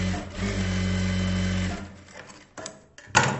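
A sewing machine stitches a folded blouse belt strip in one sustained humming run close by. It stops, and a few handling clatters follow.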